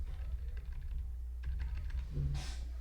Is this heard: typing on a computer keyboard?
yes